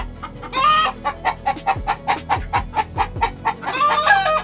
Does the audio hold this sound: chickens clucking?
yes